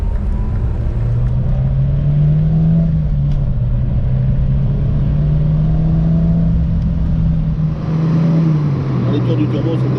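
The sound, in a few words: Renault 5 GT Turbo car engine revving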